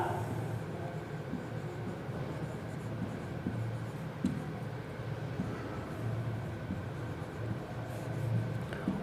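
Marker or chalk writing on a classroom board while dimensional formulas are noted, a continuous soft scratching across the whole stretch over a low steady room hum.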